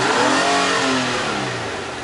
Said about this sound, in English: So again, I'll give it some gas.